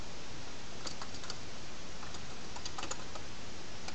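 Quick bursts of clicking on a computer keyboard as a folder name is typed, close and moderately loud over a steady hiss, with no talking.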